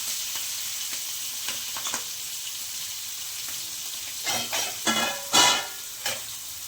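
Green chilies and onions frying in a pan for a meal maker curry, with a steady close sizzle and a few louder bursts of stirring and crackle near the end, without any voices.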